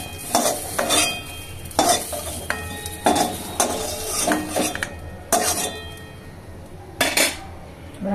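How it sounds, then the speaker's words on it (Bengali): Boiled cauliflower pieces fry in oil in a pan while a utensil stirs and scrapes, giving loud repeated clattering strokes over a steady sizzle. "ফুলকপিগুলো একটু ভেজে নিয়েছি অল্প করে"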